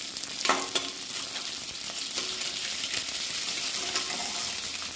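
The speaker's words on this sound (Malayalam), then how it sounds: "വെളിച്ചെണ്ണ ചൂടാകുമ്പോൾ പുഴുങ്ങലരി ഇട്ട് കൊടുക്കാം" Parboiled rice frying in hot coconut oil in a pan, giving a loud, continuous sizzle with a few sharper crackles and stirring scrapes near the start.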